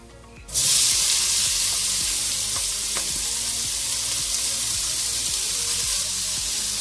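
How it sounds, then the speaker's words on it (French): Half a bell pepper and an onion drop into hot oil and burst into a loud, steady sizzle that holds strong to the end, with faint stirring scrapes. "on met dans la même huile le demi-poivron"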